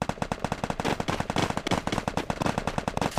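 Gunfire in the Free Fire video game, a dense, rapid automatic burst of loud shots firing continuously and rhythmically throughout, with no talking.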